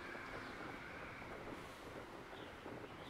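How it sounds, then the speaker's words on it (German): Wind blows through the video game Hogwarts Legacy with a soft, steady rushing gust that swells faintly now and then. It stays quiet and continuous, and no voices are heard. "Ich höre hier auch so diesen Wind."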